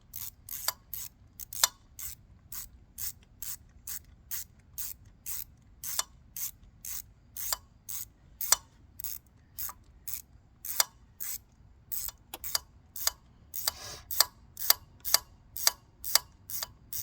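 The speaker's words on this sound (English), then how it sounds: "Get the last screw, line it up, and start ratcheting." A hand ratchet tightens a spark plug screw on a 2004 Volvo S60, making a long run of crisp, evenly spaced clicks in short repeated strokes, close up and without speech.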